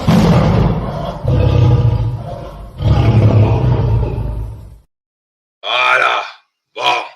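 A jingle sound effect plays long, loud roaring bursts like a big cat, three in a row, then after a short silence two shorter, brighter roars follow.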